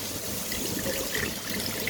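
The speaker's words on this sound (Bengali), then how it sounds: "তো পানি দিয়ে একটু ধুয়ে নিচ্ছি" Water runs and trickles steadily during rinsing, a close, even splashing wash with no voices.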